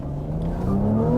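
A 2023 Cadillac CT5 with the 3.0-litre twin-turbo engine accelerating, a steady rising engine drone climbing in pitch as it pulls hard, heard from inside the car.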